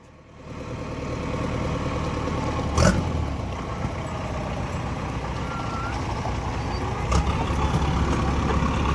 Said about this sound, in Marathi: बघ कसलं ट्रॅक्टर आहे तुफान